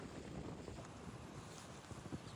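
Wind blows hard across a campsite at Cape of Rodon on the Albanian coast, between mountain and sea, a steady broadband rushing roar with microphone buffeting and no voices.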